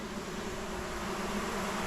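A dense, steady buzzing of many honey bees clustered on hive frames fills the short stretch, close and continuous with no pauses or voices.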